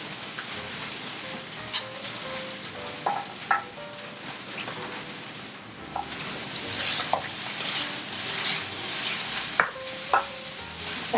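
Shrimp fried rice sizzles and crackles steadily in a pan, with soft stirring clinks and occasional sharper pops over a continuous hiss.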